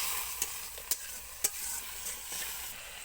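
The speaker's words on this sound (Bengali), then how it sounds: "জল দিয়ে ভালোভাবে মশলা কষিয়ে নিতে হবে।" Spice paste with chilli being sautéed in a little water, a low sizzle broken by a few sharp clinks and scrapes of a stirring spoon against the pan, close and quiet.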